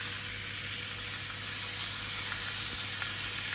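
A beef roast sears in a hot pan with a steady, loud, broadband sizzle that holds without a break, sharp spits and crackles popping out now and then, and no voices over it.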